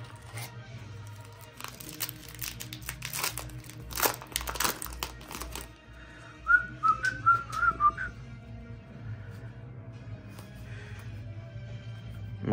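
Plastic wrapper of a trading card pack crinkles and crackles in close bursts over the first few seconds, with a faint whistling tone and room hum after.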